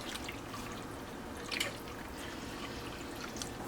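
Milk trickles and drips into a pan while being whisked in, a steady wet splashing texture with a brief louder splash midway.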